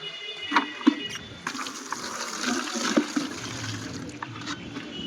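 Water runs from a tap into a bucket at moderate volume with a steady splashing rush, broken by a few small knocks and clinks, and no talk.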